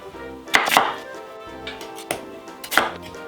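A knife strikes a cutting board while potatoes are halved for blanquette de veau, a handful of crisp, separate chops with short pauses between them.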